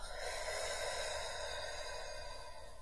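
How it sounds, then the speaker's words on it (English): A slow, deep exhale during a mindful breathing exercise comes as a soft, steady breathy rush that fades gently over a few seconds, quiet and close. "And then exhale."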